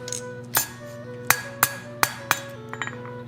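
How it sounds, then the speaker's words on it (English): A hammer taps a forged steel snake candle holder flat on an anvil, six or seven sharp ringing strikes at uneven intervals, followed by a few lighter clinks, close and loud over a faint hum. "Now I'm just going to try to tap it down so that everything sits flat on the anvil surface"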